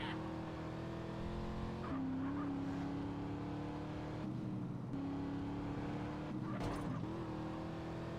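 A truck climbs a hill in the video game GTA San Andreas, its engine a steady droning hum that dips and jumps in pitch at gear changes, with occasional tire noise, continuous and moderately loud.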